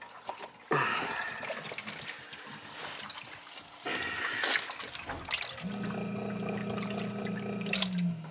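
A basement sump pump that will not shut off keeps moving water, with steady gushing and splashing that surges and shifts in strength over several seconds, close to the microphone.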